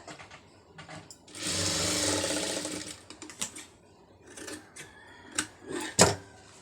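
A sewing machine stitching a pa neck piece in a tailoring class, a sustained buzzing run of stitches for about two seconds followed by shorter bursts and clicks of handling fabric, fairly quiet and without talk.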